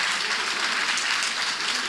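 A large audience applauds steadily at a Senegalese political rally for the Benno Bokk Yakaar presidential coalition, a dense, even wash of many hands clapping with no voice over it.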